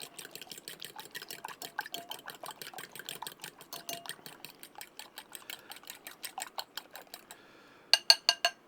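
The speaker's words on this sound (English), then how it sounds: "Grab you a fork and just give it a good whisk." A fork whisks quickly against a bowl in a steady, rapid stream of light ticking clicks that runs without a break, with a few louder taps close by at the end.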